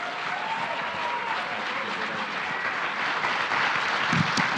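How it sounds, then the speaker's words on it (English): A conference audience at PLC 2021 gives a steady round of applause to welcome a congressman, the clapping dense and continuous throughout and slightly swelling toward the end. "Please give him a great round of applause."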